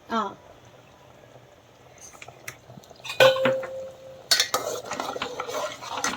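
A spoon stirs goat head curry in a cooking pot after coriander powder is added. Intermittent scraping and clanking against the metal pot build over a light sizzle and grow louder and busier toward the end, with a voice speaking at times.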